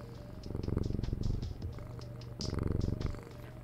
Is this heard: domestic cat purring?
yes